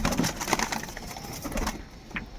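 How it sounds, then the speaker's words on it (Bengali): Close, throaty pigeon coos from a green pigeon rise and fall amid rustling and scraping noises, fairly loud and continuous. "আর আজকে যে পায়রাটার জন্য ভিডিও করছি, সেই পায়রাটা হলো সবুজ পায়রাটা"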